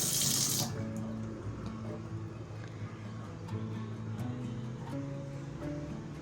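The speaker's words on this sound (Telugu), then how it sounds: "కొద్దిగా నీళ్లు చల్లుతాను." A short, bright splash of water sprinkled over wilting plants at home comes right at the start, followed by quieter background music.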